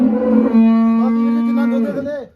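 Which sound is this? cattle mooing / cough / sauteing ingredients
cattle mooing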